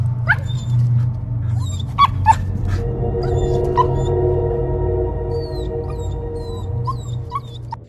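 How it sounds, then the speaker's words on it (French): Several nervous dogs whimper and yip in high, wavering whines, close and repeated over a low steady rumble of background noise. "les chiens dont l'instinct détecte sa présence et se montre de plus en plus nerveux"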